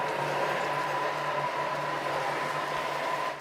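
A kitchen appliance chopping vegetables for a bolognese sauce, giving a steady close whirring drone with a constant motor hum that runs without a break and then cuts off at the end.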